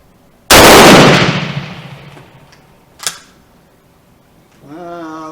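A Romanian M44 rifle fires a single loud, sharp gunshot whose blast rings and decays over about a second, then a smaller click or clack follows, and a voice starts speaking at the end.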